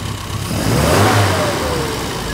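A classic Mini engine with its carburettor mixture just leaned out, revving up loud and close from a steady idle, swelling to a brief peak and settling back to a sustained mid-pitched drone.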